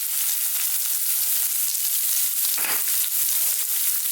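Onions sizzle loudly in hot oil in a pan while making tomato chutney, a steady close hiss with a brief surge of crackling midway, no voices.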